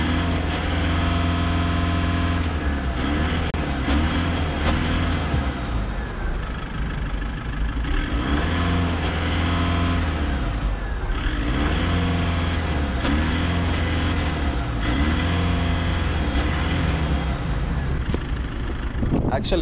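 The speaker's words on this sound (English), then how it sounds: "Let me check the sound of this diesel." A VW Polo V 1.6 TDI 90 HP diesel engine idling with a steady low rumble, rising in a few moderate revs that swell and settle back, heard close up.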